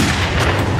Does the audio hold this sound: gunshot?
yes